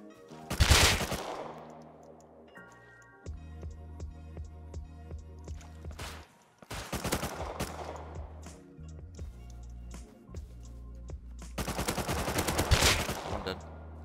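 Automatic rifle fire in the survival game Rust, several loud bursts of rapid shots separated by quieter stretches with lingering echoes, the last burst long and heavy.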